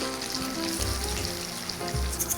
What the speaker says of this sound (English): so these are done frying